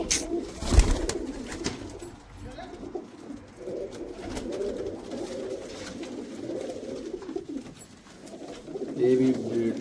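Pigeons kept by hobby fanciers coo softly and steadily across the whole stretch, with a louder burst near the start and a swell toward the end, beneath a low murmur of people talking.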